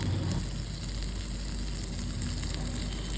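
Goat brain fry with masala crackles steadily in a pan at home, a close, dense sizzle that holds at even loudness throughout.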